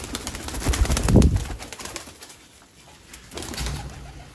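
Sialkoti pigeons cooing nearby in low, throaty bursts, with a louder swell early on and rustling, fluttering noise around them; no talking.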